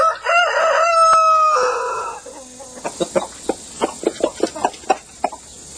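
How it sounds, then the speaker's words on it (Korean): Backyard chickens kept by their owner: a rooster lets out one loud, close crow, then a run of short, sharp hen clucks follows in an uneven rhythm, with no voices. "그의 하루 일과 시작은 직접 키우는 닭들의 모이를 주는 것"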